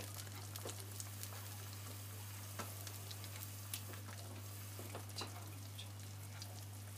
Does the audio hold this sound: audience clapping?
no